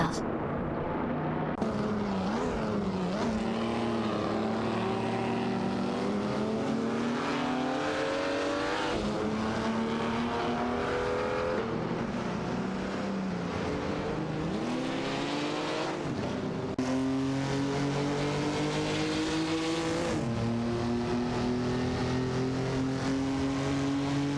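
Race cars, among them a Ferrari, roar through an AI racing video game, several engines revving and shifting in overlapping rising pitches, loud and continuous, with a commentator's voice running over them.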